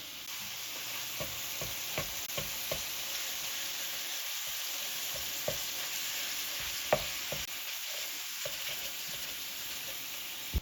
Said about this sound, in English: Throw your meat in there. And let it cook a little bit more